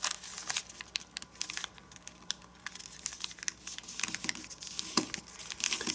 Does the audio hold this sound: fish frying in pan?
no